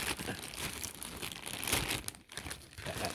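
Scissors cut along a partly opened plastic package holding zip-up boots, giving close, steady crinkling and tearing of plastic for about three seconds.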